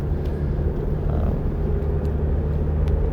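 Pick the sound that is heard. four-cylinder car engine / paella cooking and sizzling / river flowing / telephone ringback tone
four-cylinder car engine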